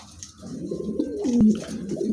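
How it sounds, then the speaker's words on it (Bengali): A pair of pigeons at a pigeon showroom coos in low, soft, rolling calls close by, steady across the moment with no voices. "খুবই চমৎকার একজোড়া কবুতর"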